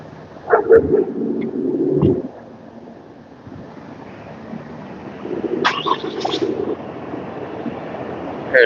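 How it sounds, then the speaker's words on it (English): A dog barks outdoors near a street crosswalk, a few short barks early on, then a wind-buffeted stretch and more barking near the end, fairly close amid wind noise. "I heard a dog bark"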